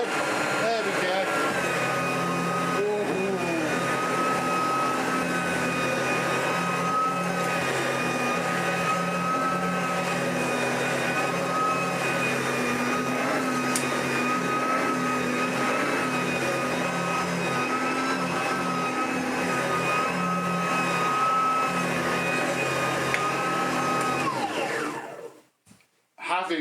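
A Sebo BP60 cordless upright commercial vacuum cleaner running on setting 4, a steady close motor whine with a layered tonal hum that holds for most of the stretch before cutting off near the end.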